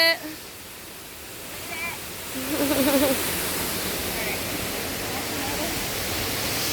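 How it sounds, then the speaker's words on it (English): Steady broadband rush of a waterfall in Nay Aug Park, loud and continuous throughout, with a brief burst of voices and a faint whistle-like tone partway through. "So the audio is not the best because we're literally sitting by a waterfall."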